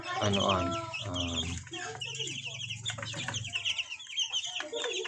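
Rhode Island White and White Leghorn cross chicks and chickens clucking and peeping close by, with someone talking over the birds throughout.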